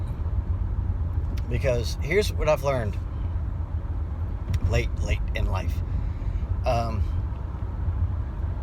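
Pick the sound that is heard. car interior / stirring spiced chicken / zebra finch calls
car interior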